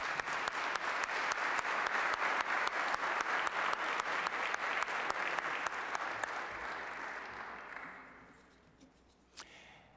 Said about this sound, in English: So if you'll please join me in a round of applause for the students.